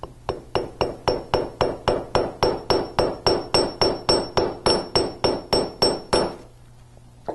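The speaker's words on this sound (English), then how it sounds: "now I plan to make a paddle with the hammer on the steel bench block" A hammer strikes wire on a steel bench block to flatten it into a paddle, about twenty sharp, ringing metallic blows in a brisk, even rhythm, close and loud, then stopping.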